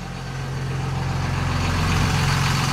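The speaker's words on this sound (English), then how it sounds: "it's got a good idle" A truck engine idles close by, a steady low diesel rumble that holds even and continuous throughout with no talking.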